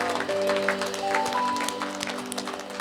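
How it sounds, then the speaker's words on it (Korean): A church congregation claps in praise during a worship service, a steady, fairly loud wash of hands over sustained organ or keyboard chords. "우리 찬양의 박수 감사의 박수 힘차게 올려드리겠습니다"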